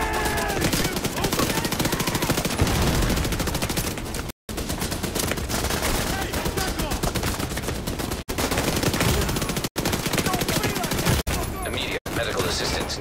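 An automated turret in The Division 2 sprays sustained, rapid machine gun fire, loud and close, nearly unbroken apart from a few short gaps, with combat noise and a voice underneath.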